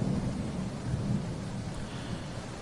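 Heavy rain pours in a steady, dense hiss while low thunder rumbles underneath, with the loudest rumbling in the first half; no voices.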